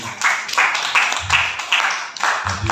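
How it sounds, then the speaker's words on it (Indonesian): A small crowd claps for Bu Neni at the 16th-anniversary celebration of Soerabaja Newsweek in Surabaya, with the clapping falling into a rhythmic, evenly spaced beat and staying close and moderately loud. "tepuk tangan buat Bu Neni"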